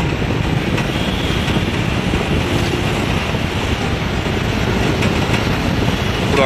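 Steady roar of wind and rushing water as a speedboat passes beneath Howrah Bridge over the Ganges, a continuous loud wash with no clear engine pitch standing out.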